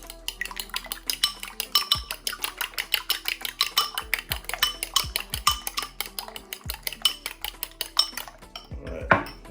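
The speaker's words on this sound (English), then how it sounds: "I'm gonna beat my eggs." Eggs being beaten in a bowl for lemon pepper wings, a fast, steady run of light utensil clicks against the bowl, close and rhythmic, continuing throughout with a few heavier knocks.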